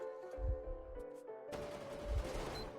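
In a Metro: Exodus firefight, gunfire erupts as dense, rattling bursts of shots, with low thuds under sustained tonal game music before a sudden wash of crackling noise.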